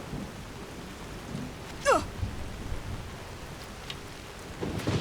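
Rain and a thunderstorm in the video game Skyrim: a steady wash of rain with one sharp thunder crack near the two-second mark, then a low rolling rumble at the end. No one speaks.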